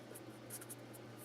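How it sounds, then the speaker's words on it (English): A pen jots down a short algebra note by hand, giving faint, soft scratching strokes in irregular little bursts over quiet room tone. "maybe I should write that down"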